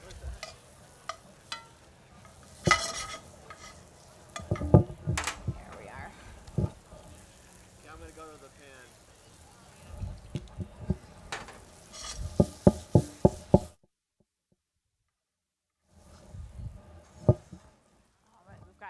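Shrimp fry in a pan during a celebrity chef demonstration at a garlic festival, with a light sizzle and scattered utensil clinks and knocks. The chef talks over the cooking, then it goes briefly silent.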